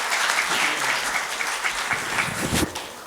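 Audience applause welcomes poet Javed Saba at an international mushaira in Bahrain: dense, sustained clapping from a large crowd, loud and continuous for a few seconds.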